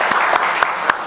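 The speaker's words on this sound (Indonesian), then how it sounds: "Kalau saya kasih tepuk tangan dulu." A single person claps hands four times at an even, unhurried pace, each clap crisp and close, with a hum of room noise beneath.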